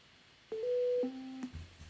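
Synthetic musical notes played by a program, a short sequence of three pure electronic tones, each a different pitch, sounding one after another over a quiet background.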